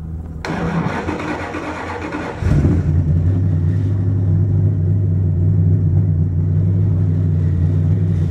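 A 1929 Chrysler engine with custom mufflers and pipes cranks for a couple of seconds, then fires and settles into a loud, steady rumbling idle with slight revving.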